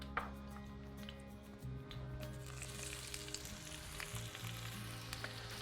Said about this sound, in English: Now let's add in 1 thinly sliced red onion.